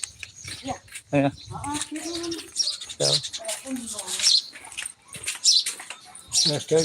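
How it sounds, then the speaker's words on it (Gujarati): High, quick sparrow chirps scattered through a village morning, mostly buried under several people talking loudly nearby. "ચકલીઓ ચી ચી ચી ચી કરે છે"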